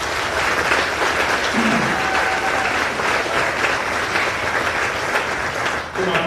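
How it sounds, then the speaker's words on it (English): An audience at a military change of command ceremony gives sustained, even applause for several seconds, a dense crowd of clapping hands that tapers off at the end. "Please give a round of applause to our Army civilians."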